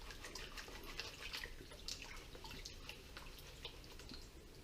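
Gold paydirt from a Lynch Mining bucket being panned in water, with steady sloshing and trickling plus small dripping splashes, continuous and close throughout.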